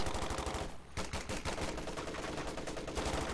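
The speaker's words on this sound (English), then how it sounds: "The machine gun is taking its sweet time to pin him." Machine gun fire in a Company of Heroes multiplayer match, with loud, rapid, continuous bursts mixed with other gunshots and battle noise. A short lull breaks the firing before it resumes.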